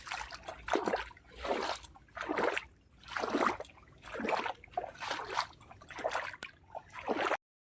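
Water from a flooded pond pours through a hole, giving a close, continuous trickling and sloshing that swells and fades in repeated surges.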